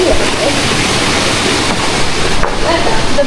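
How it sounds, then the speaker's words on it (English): A tiny waterfall at Lost Creek Falls in Scott's Gulf Wilderness rushes nearby, a loud, continuous broadband roar of falling water with gusty wind buffeting the microphone. "yeah, that's Lost Creek Falls. That's the waterfall."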